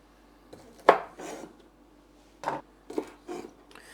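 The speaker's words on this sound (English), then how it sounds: "I'm just going to top and tail the lot of them." A knife tops and tails green beans on a board, giving a few separate close taps and short scraping strokes between quiet gaps.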